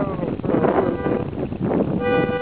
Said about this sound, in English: some guy's horn is stuck on his car.